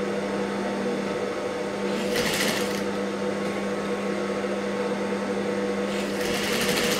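A sewing machine stitches a blouse with a steady, continuous mechanical whir, close and unbroken, with brief bursts of brighter noise partway through.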